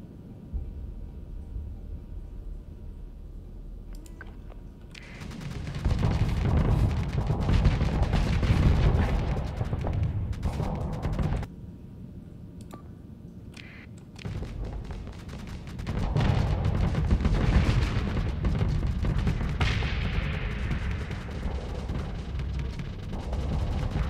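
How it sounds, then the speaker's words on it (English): Rockets and missiles launching in the space combat game Starsector, a dense barrage of booming, rumbling blasts that swell in two long heavy bursts separated by a quieter lull, loud and close. "that's a lot of rockets"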